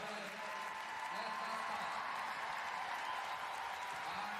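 Stockholm arena crowd at an FEI Driving World Cup carriage-driving competition applauding a driver, steady dense applause and crowd noise filling the space with a commentator talking over it.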